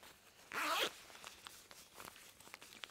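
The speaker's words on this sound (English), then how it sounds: "it is detachable with a zipper" A zipper on winter pants is pulled quickly to detach the built-in gaiter, giving one sharp, close rasp of about a third of a second, followed by faint rustling and small clicks of fabric.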